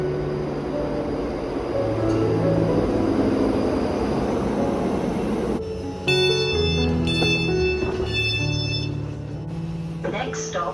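Passenger train ride from Glasgow city centre toward Milngavie, with a steady low rumble and rattle of the carriage, then a brighter, ringing onboard chime and announcement tone partway through, with speech throughout.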